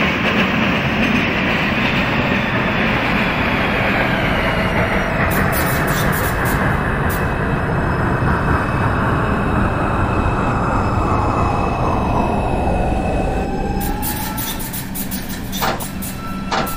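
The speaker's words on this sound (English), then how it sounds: "This is a Manhattan-bound 2 train." A Manhattan-bound 2 subway train on the Lexington Avenue line runs with a loud, steady rumble and a whining motor tone that glides down in pitch, with clicks and clatter from the rails toward the end.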